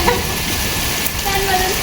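Rain falls steadily outdoors while a baby is bathed in it, a dense close hiss that stays even throughout.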